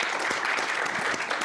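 An audience at a Penn Nursing global women's health award ceremony gives a round of applause, a dense, steady wash of clapping throughout.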